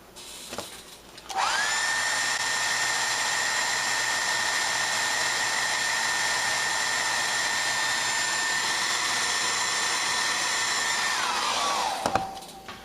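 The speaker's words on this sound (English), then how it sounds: "I'm going to heat set that and make that a little bit more tight." Heat gun blowing steadily to heat-set paint on a jerkbait lure, starting with a click and running as a loud, close, continuous whooshing hum for about ten seconds before shutting off.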